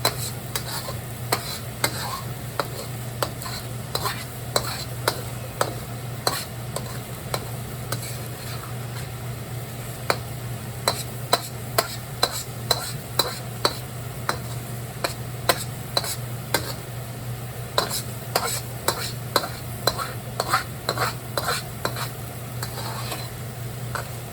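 Shrimp, cauliflower rice and scrambled eggs stir-fried in a pan, a continuous sizzle broken by frequent sharp clicks and scrapes of a utensil against the pan, irregular and close.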